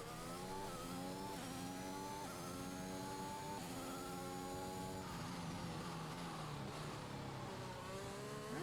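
Formula 1 cars from an Xbox F1 racing game lap the Bahrain circuit on in-laps, a steady layered engine whine with shifting pitch sweeps and overlapping cars, continuous and fairly loud with no talk.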